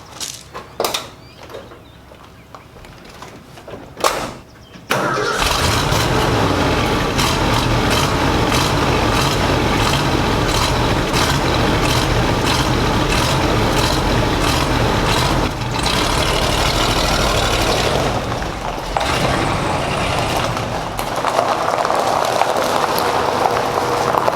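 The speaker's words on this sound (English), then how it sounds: "we have to move the old F100 out of the barn" An old Ford F100 pickup, kept in a barn, cranks over briefly and then fires into a loud, steady idle that carries on close by for most of the clip, with a few light knocks before the start.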